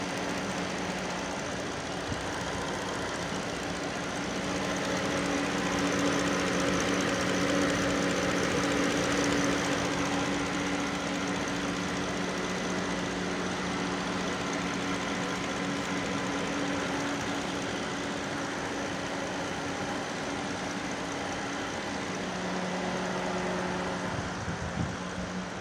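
A Bentley engine, just repaired after a starting problem, runs at a steady idle for the whole stretch, a continuous low hum with a faint whine on top and no talk.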